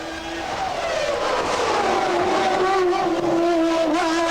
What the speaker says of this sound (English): On circuit, watching Damon Hill, who is a lap back in 9th.